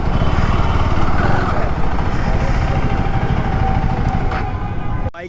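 A motorcycle engine runs steadily at a KTM service centre, a loud, continuous rumble close by that holds for several seconds before stopping abruptly.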